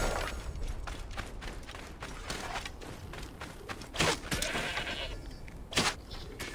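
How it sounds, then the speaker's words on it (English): A goat in the video game Assassin's Creed Origins bleats twice, short wavering cries over a busy background of game ambience and music, with no talking. "And a stupid goat."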